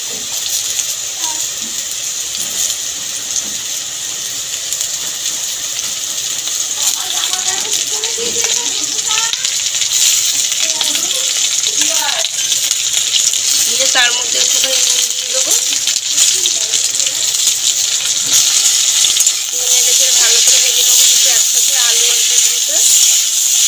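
Potatoes and thinly sliced kudri (ivy gourd) fry in oil, producing a loud, steady sizzling hiss throughout, with an indistinct voice faintly in the background.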